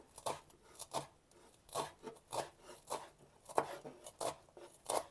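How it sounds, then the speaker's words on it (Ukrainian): A knife chops dill on a cutting board in quick, irregular taps, soft and close, with no talking. "Кріп нарізаю."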